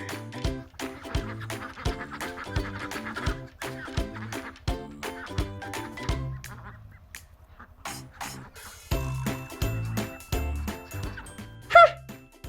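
Cartoon ducks quack in quick, rhythmic bursts over a bouncy backing track, with a brief squeaky call near the end.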